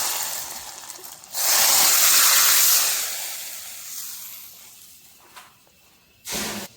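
Hot tempering with curry leaves poured into boiling moong dal saaru (hesaru bele saaru) gives a loud, sudden sizzling hiss that lasts about two seconds and then fades, followed by a second short burst of sizzle.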